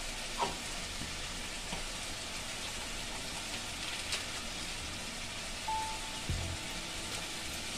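Chicken frying in a pan with ground cumin, turmeric and Kashmiri chilli powder for chicken lababdar, a quiet, steady sizzle with a few soft clinks and scrapes.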